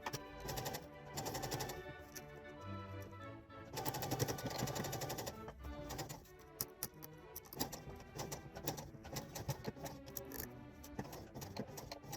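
A sewing machine stitches a curved collar onto the neckline of a small doll blouse, running in bursts of fast rattling stitches with brief pauses, close and steady, with light music-like background tones throughout.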